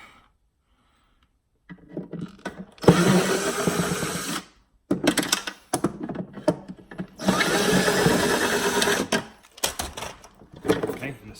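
A power drill backs Phillips screws out of a Jeep TJ center console, with two sustained whirring bursts separated by pauses and short stutters, loud and close.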